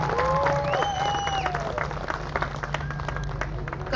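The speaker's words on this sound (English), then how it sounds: "give yourselves a round of applause" Applause from the crowd at a 2022 high school graduation ceremony, a steady, dense wash of clapping that holds for several seconds, with a few faint voices and brief whistles mixed in.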